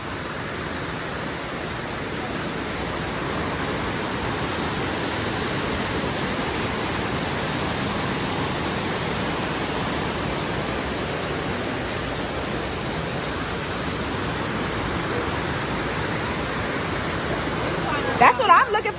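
Continuous broadband rush of a stream flowing near a waterfall on a steep hillside, loud and even throughout, with a brief clatter or handling noise near the end.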